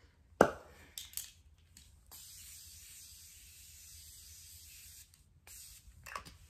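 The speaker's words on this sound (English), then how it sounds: "we're gonna finish off with the setting spray that we started with" A few short spritzes of makeup setting spray, followed by a longer steady hiss of spraying, close and fairly soft in a quiet room.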